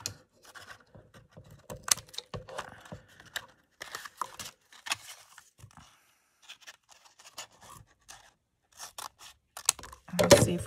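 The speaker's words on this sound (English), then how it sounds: "So I'm going to cut it right about here." Scissors snip through paper for a handmade watercolour lap book, a series of short, crisp cuts and rustles in a quiet room, with brief handling noises and a louder scrape near the end.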